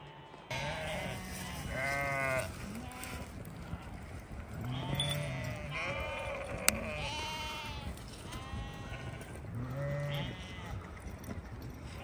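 Flock of sheep bleating while being driven toward a dam on a hot day, repeated overlapping calls near and far, with outdoor background noise between bleats.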